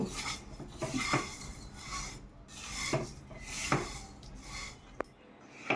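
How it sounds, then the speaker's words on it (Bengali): Vermicelli (semai) being fried with sugar in a pan, scraped and stirred with a spatula in steady rasping strokes, with occasional clinks against the metal, close and alone. "এখন চিনির সাথে আমি সেমাইটাকে ভালো করে আর একটু ভেজে নিচ্ছি।"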